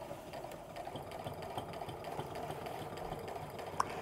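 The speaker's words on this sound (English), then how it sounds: "So as I'm sewing, I'm really making sure to keep the edge of that seam even with the edge of my presser foot" Sewing machine stitching a seam on a fabric apron at a fairly long stitch length, a faint steady rapid whirring hum with fine rhythmic ticking, running continuously, one brief click near the end.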